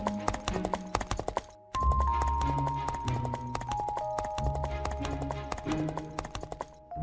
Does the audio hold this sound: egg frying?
no